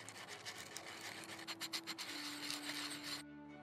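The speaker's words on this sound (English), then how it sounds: "We sand the end by hand." Hand sanding the end of a metal tube from a hand drill being restored: a quiet, steady scratchy rubbing with a quick rhythm of strokes, ending abruptly in near silence.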